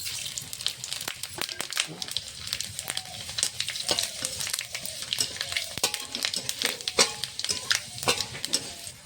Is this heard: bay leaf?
yes